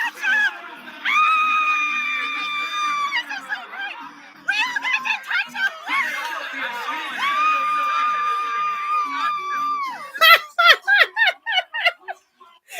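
Live concert crowd of fans shrieking in long sustained high-pitched bursts, with several waves of screaming and pauses between them, ending in choppier shorter yells.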